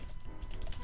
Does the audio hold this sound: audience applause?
no